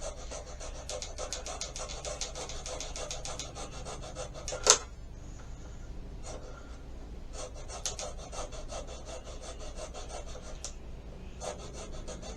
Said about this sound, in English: Gotta love filing.